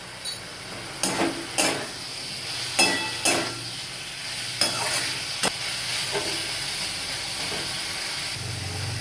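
Diced potatoes sauté with spices and turmeric in a hot pan for an aloo begun dish, giving a steady soft sizzle broken by several sharp scraping stirs of a spatula, close and alone.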